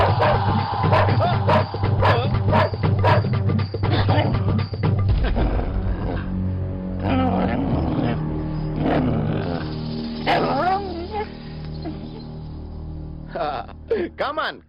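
Dogs bark in a Telugu film comedy scene, with sharp yelps early on that give way to a dense, loud mix of growly animal noise and other sound, while people talk over it.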